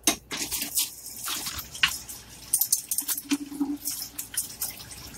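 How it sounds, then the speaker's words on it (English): Hands being washed under a running kitchen tap, water splashing and dripping unevenly with a few light clinks of dishes nearby, close and fairly loud, no talking. "now let me wash my hands and we'll put the rest in"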